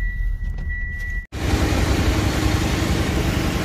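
A farm vehicle's engine runs loud and close in a steady, rough rumble that starts abruptly after a short quieter stretch with a faint thin whine, with no voices over it.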